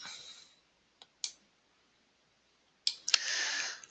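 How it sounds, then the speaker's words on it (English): Computer mouse clicked on an office computer while opening a work order, a few sharp isolated clicks spaced apart in a quiet room, followed by a rapid cluster of clicks near the end. "I'm going to do is just simply double click and open the work order up"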